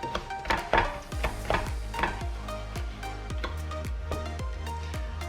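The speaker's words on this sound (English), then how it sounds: "Notice how Tia is stirring consistently." Coconut milk and sugar sauce being stirred in a pot, with soft repeated scrapes and knocks of the spoon against the pot in a steady rhythm and faint sizzling underneath, no voices.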